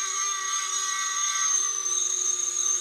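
FPV drone motors run at roughly half throttle, giving a steady high-pitched electric whine with a bright tonal hum that holds level throughout, close and alone without voices.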